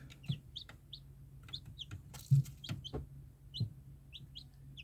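Day-old Aborigen breed chicks peeping in short, high chirps at an irregular pace, with occasional soft clucks and thumps; no talking.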